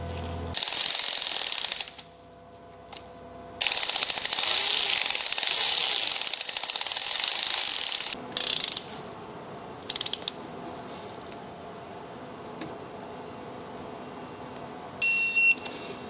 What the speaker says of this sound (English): use these 2 bolts and bolt it back up to the block, find the torque spec, and torque it down to spec.